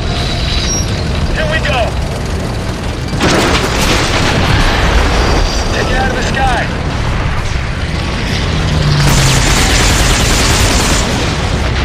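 Tank gun blasts and explosions in The Darkness video game, a steady loud barrage of booms and bursts with rumbling mechanisms beneath, repeated heavy hits recurring across the stretch.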